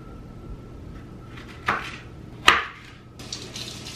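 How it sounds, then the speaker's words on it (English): A knife chops peppers on a cutting board: two sharp, distinct knocks a moment apart, then quieter handling noise over a faint background hum. "We'll get these peppers chopped up."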